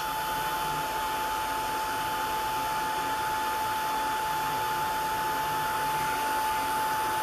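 A hair dryer runs steadily to dry orange paint in a mixed-media art journal, a constant close whirring blow with a high steady whine, no speech.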